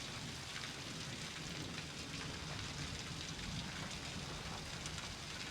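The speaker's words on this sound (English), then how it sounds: "The sound of rain on my earphones" Video game rain, a steady dense hiss of rainfall with a faint low rumble, continuous and even, with no voices.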